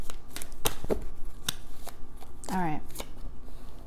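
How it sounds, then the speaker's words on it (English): Tarot cards are shuffled by hand, with a few crisp slaps and riffles close by, and a voice briefly speaks between them. "Let me do another shuffle."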